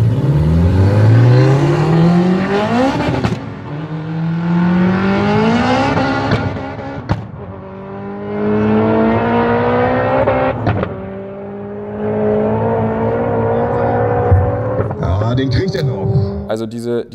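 A tuned 800-horsepower Honda Integra revs hard through rising gear pulls, climbing in pitch, dropping at each shift, then climbing again, accelerating with almost no wheelspin; loud and close, with voices talking over it.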